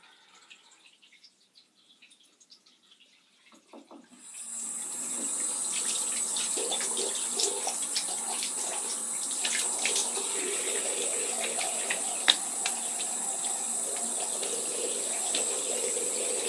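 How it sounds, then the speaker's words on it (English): After a few quiet seconds, a tap turns on and water runs steadily into a sink for a face rinse after a shave, with a close, continuous hiss. "I'll just rinse my face off."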